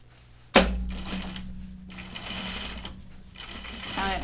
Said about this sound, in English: I'm gonna edge stitch.